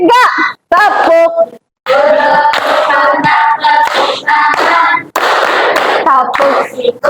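Pupils in an Indonesian classroom play a clapping game as an icebreaker, chanting loudly together in a sing-song rhythm while sharp hand claps punctuate the chant.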